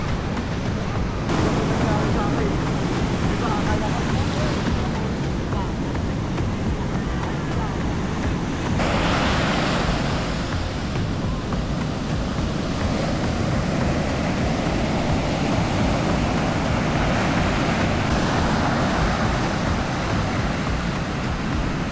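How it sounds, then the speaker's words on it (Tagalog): Loud, continuous roar of ocean surf at a beach in La Union, Philippines, with wind buffeting the microphone, waves washing in without pause and no clear voices. "papakita ko sa inyo yung alon nung beach ngayon Sabado"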